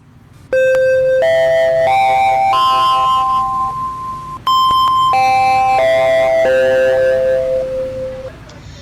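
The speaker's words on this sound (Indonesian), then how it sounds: "bel tanda masuk telah berbunyi" A school bell chime for the start of class rings out loud and clear, a two-part melodic electronic ding-dong sequence of descending and rising tones that plays through once and then repeats.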